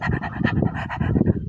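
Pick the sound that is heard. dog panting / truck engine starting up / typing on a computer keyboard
dog panting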